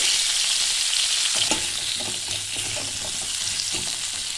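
Potato and papaya pieces frying in a pan, giving a loud, dense, continuous sizzle with occasional stirring knocks and scrapes, close up and without talk.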